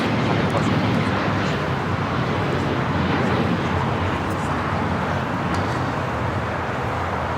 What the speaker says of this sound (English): Our next takeoff here on the south side.